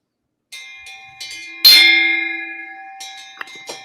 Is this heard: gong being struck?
yes